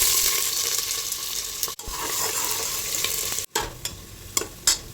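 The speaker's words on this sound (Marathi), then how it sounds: "तेल गरम झालं, टाकायचं कांदे." Onions drop into hot oil and fry in a pan with a loud, continuous sizzle. Stirring scrapes and a few sharp clacks break the crackle at intervals, and no one speaks.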